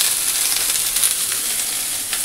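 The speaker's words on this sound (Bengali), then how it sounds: "আর এখানে এই যে বেগুনগুলো ভাজা বসিয়ে দিয়েছি" Eggplant slices fry in a pan, giving a steady close hiss of bubbling oil with faint crackles and no talking over it.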